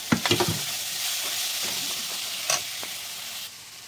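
Lentils sizzle steadily in a hot pan with oil, a continuous close frying hiss broken at the start by a few quick stirring scrapes and a brief louder flare midway.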